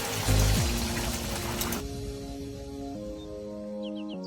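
Kewra water and rose water are poured into a pot of vegetable biryani, a brief liquid splash and trickle at the start before fading into quiet kitchen room tone.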